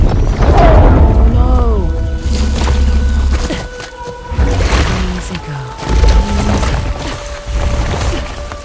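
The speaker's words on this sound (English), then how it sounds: "Explosions we heard must have triggered the collapse." Deep explosive booms and heavy crashing rumble through an Uncharted: The Lost Legacy scene, with tonal musical swells and a voice speaking between the blasts.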